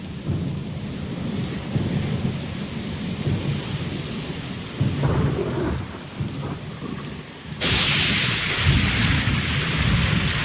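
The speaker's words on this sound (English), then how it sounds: "Lost and alone in the storm?" A thunderstorm at sea in Pillars of Eternity II: Deadfire, with steady heavy rain, rolling rumbles of thunder midway and a sudden louder hiss of downpour and wind near the end, with no voices.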